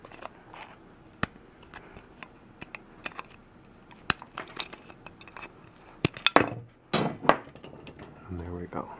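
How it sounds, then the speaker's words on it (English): Sharp scattered snips and clicks as wires are cut away inside a Korg Volca power supply, close and fairly quiet, with a few louder clattering bursts near the end. "I'm just gonna snip all that away."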